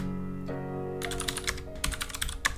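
Rapid keystrokes on a computer keyboard while entering Linux install commands, crisp clicks in a quick irregular run over a steady electronic hum, close and clear with no talking.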